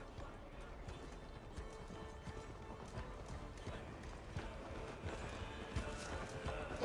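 Horse hooves galloping in the Viking video game Assassin's Creed Valhalla, a fast continuous clip-clop rhythm at low volume with faint voices and a brief whinny mixed in.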